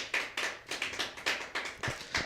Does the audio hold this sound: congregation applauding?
yes